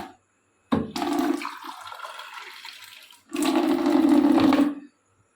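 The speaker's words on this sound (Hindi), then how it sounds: "तो अपने लिए भरेंगे 1 गिलास पानी।" Water runs into a glass from a tap in two bursts, a shorter stream followed by a louder, fuller rush that cuts off cleanly, heard close with no talking.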